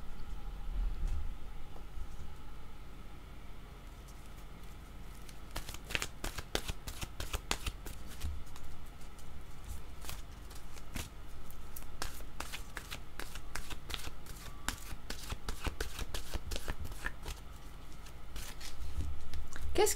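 Oracle cards being shuffled by hand, with rapid riffling and flicking bursts that repeat close up over a quiet room.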